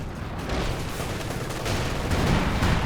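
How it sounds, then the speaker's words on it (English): Artillery fire in Company of Heroes 2 rumbles and crackles as a continuous barrage of dull blasts and gunfire, layered and fairly loud, swelling toward the end. "He's calling in the artillery once more"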